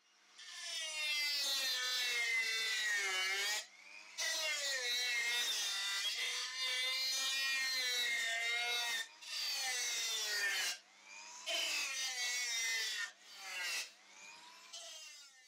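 A small Dremel blade roughens the surface of a turned oak bowl, giving a loud, continuous buzzing rasp in long bursts broken by short pauses, with no talk.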